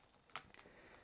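The plastic joints of a Marvel Legends Apocalypse action figure clicking as they are moved: one sharp click followed by a few faint ticks, quiet and close.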